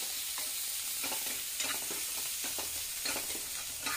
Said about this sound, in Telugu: బాగా ఫ్రై చేసుకోవాలి